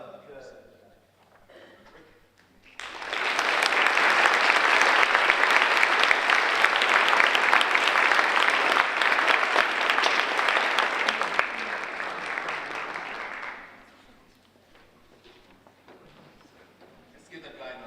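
After a few spoken words, an audience at a Penn State Altoona student awards ceremony bursts into loud, sustained applause for about ten seconds, then it stops abruptly and a voice resumes faintly.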